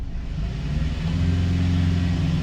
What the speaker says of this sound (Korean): 엔진 소리가 좋아